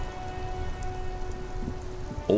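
Steady rain in the video game Disco Elysium on PS5 pattering on surfaces in a continuous dense hiss, with a faint low rumble underneath and no speech.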